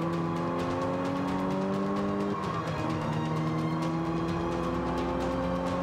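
Car engine in a Forza Motorsport 5 race on Xbox One, revving and climbing steadily through the gears, with a continuous loud drone, brief shifts and faint tire noise, no talking.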